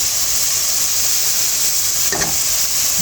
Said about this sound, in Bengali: এখন আমি এই ম্যারিনেশনের এই মাংসটা দিয়ে দিচ্ছি